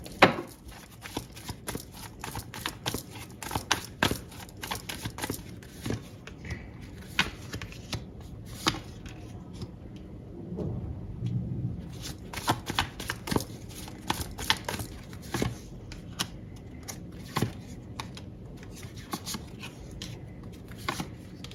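A tarot deck is shuffled by hand in quick bursts of crisp card riffles and sharp snaps, repeated many times. Short pauses break it up, and a soft rustle fills the middle.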